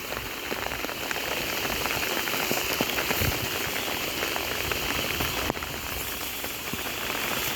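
Steady rain pours down continuously, a dense hiss of drops striking surfaces, close and even throughout with no voices.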